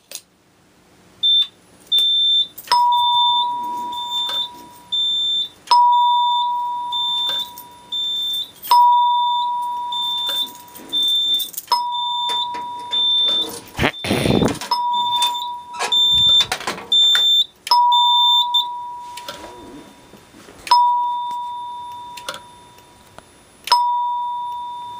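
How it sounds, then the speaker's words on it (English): A building fire alarm system sounds on a slow march time code during a floor system test, with loud, steady electronic tones pulsing in a regular slow rhythm and higher beeps, alongside a few brief clattering noises. "the system's on slow march time, so I thought that'd be an appropriate coding for this alarm"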